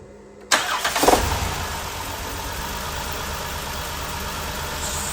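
A Chrysler Town & Country van with an ignition misfire cranks briefly and catches, then settles into a steady, fairly loud idle that runs on unbroken to the end.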